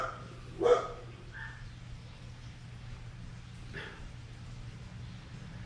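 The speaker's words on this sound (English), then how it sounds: "neighbor's dog." A neighbor's dog barks once, fairly near and sharp, followed by a fainter second bark a few seconds later over a steady low motorized-bicycle engine drone.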